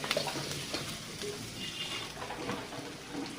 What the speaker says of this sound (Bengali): পেঁয়াজ সব ভেজে নিচ্ছি।